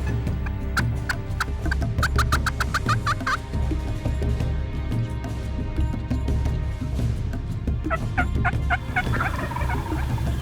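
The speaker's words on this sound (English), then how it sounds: "That gobbler's chasing those jakes down the road." Two big wild turkey gobblers chase young jakes down a road, with repeated loud, close gobbles in rattling bursts, some overlapping, over a steady outdoor background.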